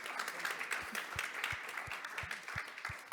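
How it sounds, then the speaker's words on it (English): Steady applause from a conference audience for a panel, dense clapping throughout with a few louder claps standing out near the front. "Please join me in giving our panelists a big round of applause."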